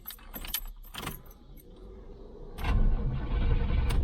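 Car keys jangle sharply in a GM vehicle's key ignition in a few quick bursts, followed by a low rumble that suggests the car's electrical system or engine coming on.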